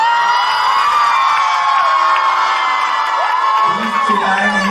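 A classroom full of schoolgirls at a farewell gathering shouting, whooping and cheering together, loud and sustained, with individual high-pitched voices rising above the crowd noise.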